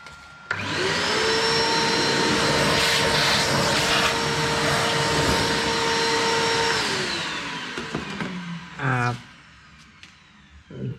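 A machine tool takes a cut through tough material, a loud steady whining drone with a sustained tone for several seconds before spinning down, followed by a few clunks and handling noises.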